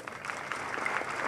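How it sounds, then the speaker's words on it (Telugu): Audience at a felicitation ceremony for SSC and Intermediate students clapping together in a large hall, a short burst of dense, even applause heard from within the crowd. "చప్పట్లు కొట్టండి చూద్దాం."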